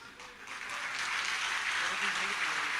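An audience at a Hindi comedy poetry show breaks into applause, a dense steady clapping that swells and holds at a moderate level throughout, with faint voices underneath.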